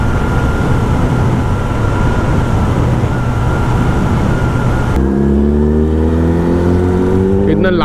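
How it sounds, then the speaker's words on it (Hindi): A superbike's loud exhaust roars steadily on a forest road, then the engine note shifts into a rising, revving whine, close and unbroken throughout. "इतना लाउड एग्जॉस्ट गाइस जंगल में"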